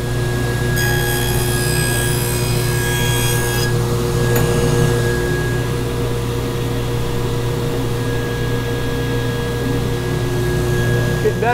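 Table saw running as it cuts cove molding in wood, a steady loud motor whine with a high-pitched cutting screech in the first few seconds, then a continuous drone.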